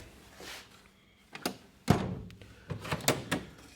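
A drawer on a Snap-On tool box is pulled open: a series of close, sharp clunks and metallic rattles with short pauses between them, no voices.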